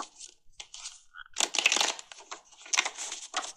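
Tarot cards shuffled by hand close to the mic, crisp papery riffles and slaps in uneven bursts with short pauses between, fairly quiet with no talking.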